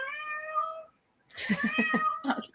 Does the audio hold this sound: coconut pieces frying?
no